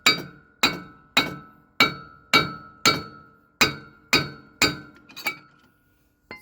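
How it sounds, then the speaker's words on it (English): A hammer strikes the wheel studs of a semi truck hub on a Freightliner Cascadia or Kenworth axle, giving nine sharp, ringing metallic blows at an even pace, followed by a couple of lighter taps. "To remove the hub, just hit it with a hammer on the studs"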